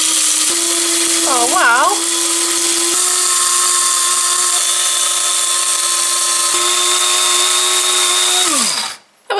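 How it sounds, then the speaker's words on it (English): An Aigostar electric coffee grinder whirs loudly and steadily, grinding a batch of coriander seeds for about nine seconds before winding down and stopping, with a brief exclamation spoken over it. "I've got some coriander seeds. I'm just going to do the whole lot."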